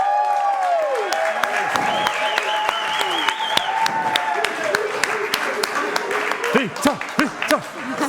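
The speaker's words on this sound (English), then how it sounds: "round of applause!" An audience at a Logitech live show in 2024 claps and cheers as a guest is welcomed on stage, producing sustained loud applause with a few whoops, while a host keeps talking over it through amplified speakers.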